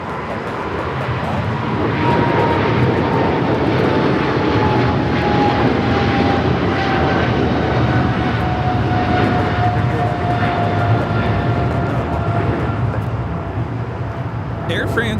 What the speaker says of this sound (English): Air France Flight 23 taking off to Paris on the 777-300ER